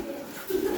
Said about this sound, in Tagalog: Kaya may ibon dito.